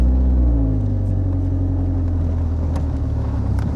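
A 1986 Alfa Romeo Spider Veloce 2.0 idles with a loud, rough rumble close by, its engine note climbing briefly as it is revved, then settling into a steady throb. No one speaks.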